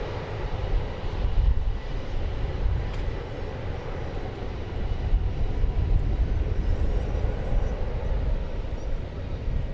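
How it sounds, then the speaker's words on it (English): An American Airlines airliner taking off from DFW airport, a loud, steady jet engine roar with heavy low rumble that swells slightly, heard from a spotting position near the runway. "And here goes an American Airlines flight just about to take flight to Portland, Oregon."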